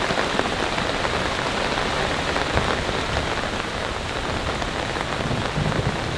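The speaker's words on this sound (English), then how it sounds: "we have heavy rain for the next couple of hours" Heavy rain falls on a Poler four-person instant pop-up tent, a dense, steady patter drumming close and loud on the fabric without letup.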